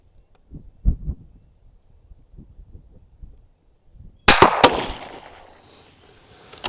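A .17 HMR Ruger Precision Rifle firing outdoors: after soft low thumps and handling noise, two sharp cracks in quick succession ring out loud and close, trailing into a fading echo.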